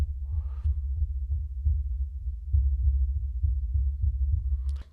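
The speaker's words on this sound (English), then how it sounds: "now let's do some taps on the shock mount" Low, dull thumps tapped repeatedly at a steady pace on a microphone shock mount, close and muffled, with a brief brighter knock near the end.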